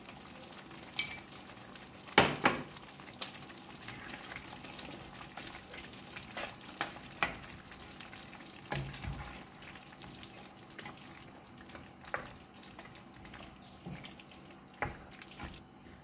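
Mutton simmering in a coconut gravy in a pot, a steady soft bubbling and sizzle with occasional louder clinks and stirring knocks from a utensil, close by with no talk.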